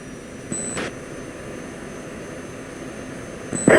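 An F-16 jet engine idles as the aircraft taxis in the Falcon BMS flight simulator. It makes a steady, hissing turbine drone with a faint high whine, and two short, slightly louder surges come near the start and the end.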